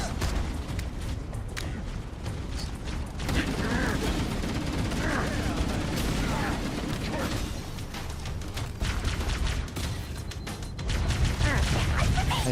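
Gunfire rattles through a Halo battle against the Covenant, with dense bursts and booms over a constant loud rumble of game noise and a voice talking over the action.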